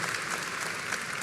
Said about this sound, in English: Can we get a big round of applause for these incredible panelists?